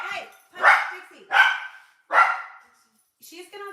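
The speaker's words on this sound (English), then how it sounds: "Stop barking, or you're gonna get locked up." A dog barks three times in sharp, loud bursts about a second apart indoors during a busy live shopping broadcast, followed by a brief voice speaking at the end.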